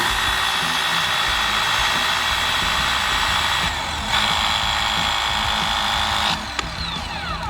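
A fire department's hydraulic rescue tool runs in a steady, loud mechanical whine with a constant motor drone, shifting pitch slightly partway through, with no voices present.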